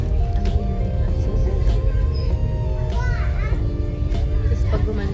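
Children playing noisily indoors, a dense continuous din of overlapping young voices, shrieks and chatter, loud and close throughout with a steady low rumble beneath.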